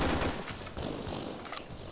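Distant gunfire crackles in the Arma 3 military video game. Scattered faint shots come in a loose, irregular rhythm over a low background rumble.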